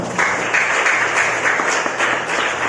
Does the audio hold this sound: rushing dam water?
no